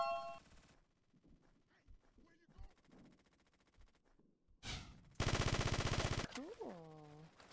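Gunfire in a shooting video game, heard as scattered short pops followed by a loud burst of rapid automatic fire near the end, mixed with game tones and effects. A voice speaks briefly in between.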